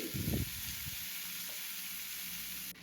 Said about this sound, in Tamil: எடுத்து வச்சுருக்க சிக்கனையும் அதோடு சேர்த்து இதையும் நல்லா வதக்கி விடணும்.